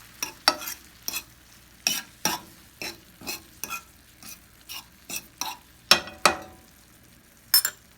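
Marinated red onions sizzle in a pan while a utensil stirs and scrapes them, a soft frying hiss broken by a dozen or so sharp, irregular clacks of the spoon against the pan, close and with no talking.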